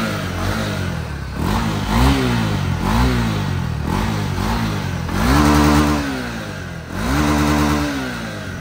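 Honda Tornado XR 300L motorcycle engine running without its air filter, loud and close, revved repeatedly in short climbing bursts over a steady idle.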